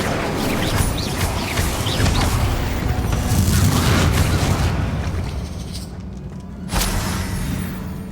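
Incendio fire spell cast repeatedly in Hogwarts Legacy, a dense roaring, crackling burst of flame and impacts filling the mix, loud and continuous before a brief drop and a final thump.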